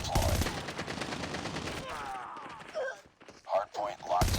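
Rapid shotgun blasts and gunfire crackle in Call of Duty Mobile gameplay, a dense burst of close shots followed by a few separate booms, with game voice callouts in between.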